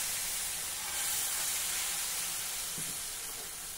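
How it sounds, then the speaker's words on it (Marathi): Dhirde batter sizzling on a hot griddle greased with ghee, a steady bright hiss that holds evenly throughout with no talk over it. "तवा चांगला गरम झाला की त्यावर धिरड्यांचं हे मिश्रण घालूया"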